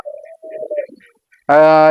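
Pigeons in a home loft coo softly at first, then one close, loud, drawn-out coo rounds off the short stretch.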